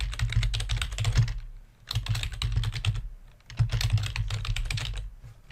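Fingers type a company name on a computer keyboard in rapid bursts of close clicking keystrokes, broken by two short pauses between runs.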